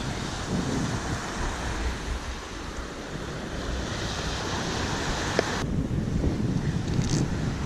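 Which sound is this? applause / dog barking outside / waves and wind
waves and wind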